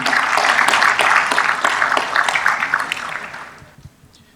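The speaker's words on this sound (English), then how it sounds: "Please give a round of applause to the Antigua and Barbuda CIU" Applause for the Antigua and Barbuda CIU at a morning session forum, a dense wash of many hands clapping that holds steady for about three seconds and then fades out.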